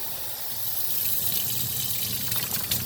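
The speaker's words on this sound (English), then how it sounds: "Let's rinse the filter back out" Water gushing steadily from a tap or hose, rinsing sand out of a Hoover FloorMate floor cleaner's filter in a garage, a continuous close splashing flow with no talk.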